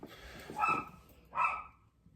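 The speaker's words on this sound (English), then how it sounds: "the dog continued to bark the whole entire time" Two sharp barks from a dog ring out close by in a boiler room where steam boiler piping is being cut out, with a short gap between them.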